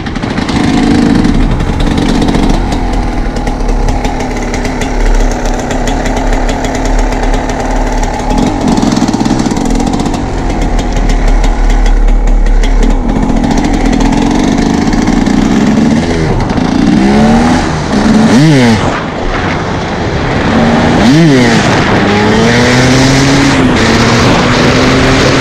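A motorcycle engine runs loudly up close, idling with a rough rumble and then revving repeatedly in rising and falling bursts.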